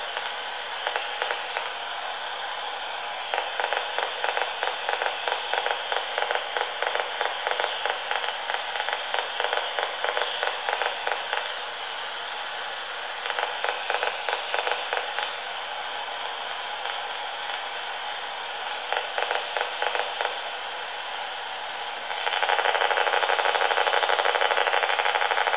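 Electromagnetic interference from a children's toy's flashing lights, picked up as steady radio static that pulses in rapid buzzing bursts, shifting rhythm with the light pattern and ending in a louder continuous hiss.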